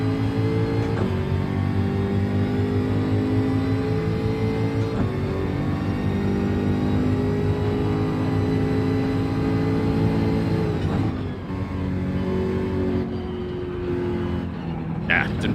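A Jaguar Gr.4 race car in Gran Turismo 7 drones at steady high revs for the whole stretch, with a brief dip and re-climb near the end and a voice talking over it.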